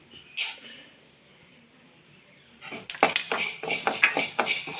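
Urad dal and raw rice are roasted in a pan: one early clink and a quiet pause, then a ladle scrapes and rattles briskly against the pan in rapid, close stirring strokes.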